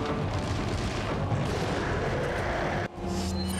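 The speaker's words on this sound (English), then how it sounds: "We're gonna do two magnum shots and a knife stab." Heavy magnum revolver shots in a horror speedrun video game, a dense, loud, continuous blast-like roar with a brief dip near the end rather than clearly separated reports.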